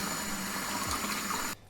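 Cold water pours steadily into the tank of a Gaggia Classic espresso machine, a close, continuous splashing gush that stops abruptly near the end.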